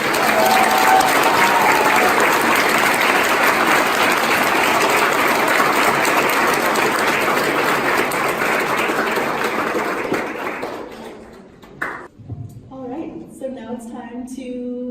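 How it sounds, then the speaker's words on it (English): A large audience at a graduation ceremony at the Peabody Museum of Natural History gives loud, sustained applause for graduating seniors, dense clapping that fades out, followed by a few scattered claps and brief sounds. "ask for a huge round of applause for our seniors this year"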